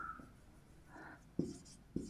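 Pen scratching on paper while an English exam answer is written, soft strokes close by with a couple of sharper taps, in a quiet room.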